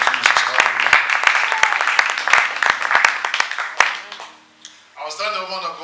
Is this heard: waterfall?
no